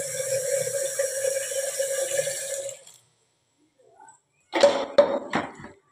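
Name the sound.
water rinsing toor dal (pigeon pea lentils) while washing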